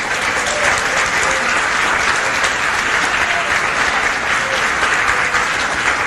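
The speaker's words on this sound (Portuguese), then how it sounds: "Você pode aplaudir ao Senhor?" A church congregation at a morning seminar claps in steady, dense applause that fills the room evenly for several seconds, with no speech over it.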